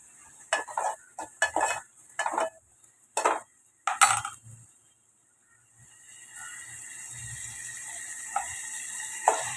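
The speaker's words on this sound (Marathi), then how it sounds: "हे बघ कांदा मी परतून घेणार आहे" Onion being sautéed in oil in a pan on a gas stove: clattering stirs and scrapes of a spoon against the pan, then a steady soft sizzle of frying.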